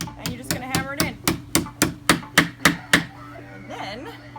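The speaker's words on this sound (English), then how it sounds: "you're just going to hammer it in" A pronged insert is hammered into wood while repurposing a bed into a bench: about ten sharp, evenly spaced metallic-wooden knocks, close and loud, followed by quieter handling noise.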